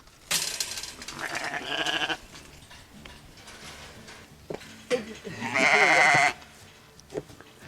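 Rams bleat on a sheep homestead, with loud calls at the start and a longer, strong bleat near the end, plus quieter farm sounds in between.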